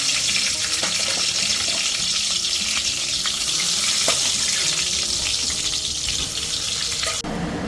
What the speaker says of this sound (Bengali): খিচুড়ির সাথে খাওয়ার জন্য বেগুনটা ভেজে নিচ্ছি।